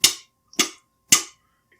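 A whole watermelon is rapped with knuckles three times in an even rhythm, each knock a sharp, close thud that dies away fast in silence, with a fourth knock starting right at the end.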